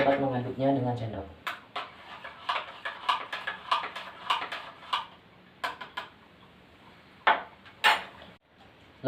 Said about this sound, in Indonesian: Kita dapat mengaduknya dengan sendok.